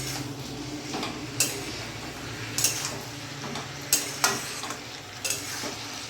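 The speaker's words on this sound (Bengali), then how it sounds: "এখানে ভেজে রাখা আলু পটলটা বেগুনটা পুরোটা দিয়ে দেবো, ভালো করে মিশিয়ে নেব" Fried potato, pointed gourd and eggplant being stirred together in a pan over medium gas: a soft sizzle beneath, with loud, irregular spatula scrapes and knocks against the pan, about five or six distinct strokes.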